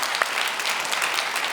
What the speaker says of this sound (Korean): 우리 주님께 다 같이 영광의 박수 한번 올려드렸으면 좋겠습니다